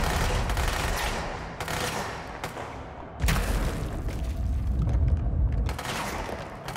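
Rapid automatic gunfire in the video game Control, loud bursts of shots with booming impacts coming in waves, a short lull, then heavier sustained firing.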